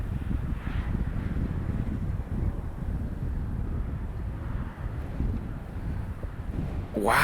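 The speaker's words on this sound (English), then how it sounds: "he's dealing with some serious gusts here." Strong wind gusts roar across a disc golf course in Emporia, Kansas, a continuous loud rumbling buffet on the microphone with no voices, ending in a brief sharper swell.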